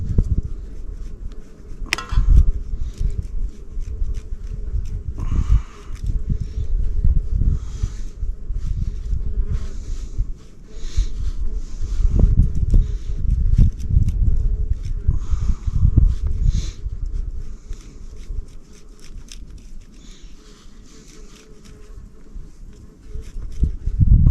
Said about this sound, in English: And I definitely have some bees visiting